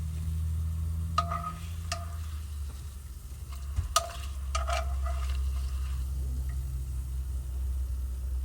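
Tortilla chips fry in very hot oil in an RV kitchen, giving a steady, close sizzle with scattered sharp pops and clicks throughout, and no talking.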